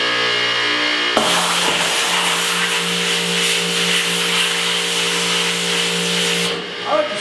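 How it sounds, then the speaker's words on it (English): A high-pressure washer kicks on abruptly and sprays a screen-printing screen, producing a loud steady hiss with an underlying motor drone for several seconds before cutting off, followed by a brief rustle. "So I'm going to use a high pressure washer."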